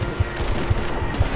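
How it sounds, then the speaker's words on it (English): Rapid gunfire in Deus Ex: Mankind Divided, a quick string of regular low shots about every half second, close and moderately loud over steady background game noise. "Keep shooting at you, just in case."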